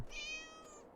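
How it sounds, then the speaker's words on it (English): A cat meows once in the Neverwinter Nights 2 fantasy role-playing game, a single drawn-out tonal mew with steady pitch, clear and close over a quiet ambient game background. "oh, there's a kitty cat."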